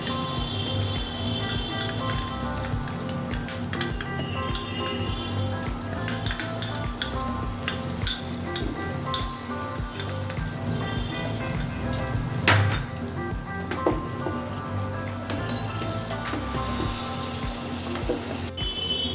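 Chilli chicken with onion and capsicum sizzles and clatters in a pan as it is stirred, a steady close frying hiss broken by scraping and clinking of the spoon, with a low hum underneath.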